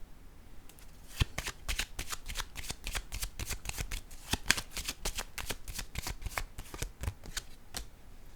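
Playing cards are shuffled and laid down in a tarot-style reading, giving a rapid series of crisp, close riffling snaps and slaps that run steadily without pause.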